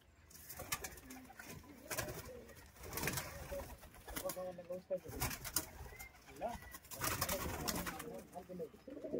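Pigeons coo repeatedly at a Madrasi pigeon loft, soft rolling calls close by with occasional wing flutters, while someone talks over them.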